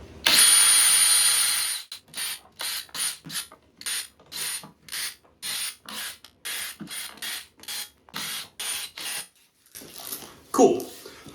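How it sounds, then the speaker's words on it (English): Cordless power drill backing screws out of a JBL subwoofer cabinet: one long whirring run, then a quick series of short bursts with brief pauses between, close and fairly loud, ending with a faint clatter. "So I'm lazy and I'm just gonna use a power drill"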